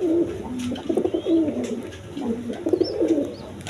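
A pair of khaki pigeons sitting with a chick coo in low, rolling repeated phrases, close and moderately loud, with faint chirps above and no talking.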